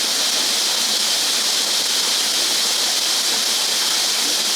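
A cascading waterfall pours in a steady, dense hiss of falling water, even and continuous throughout with no voices.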